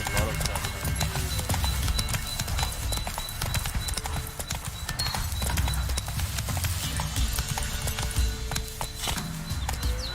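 Roach the horse gallops in The Witcher 3, hooves clip-clopping in a quick, steady rhythm throughout, close and clear, with a voice talking over the hoofbeats.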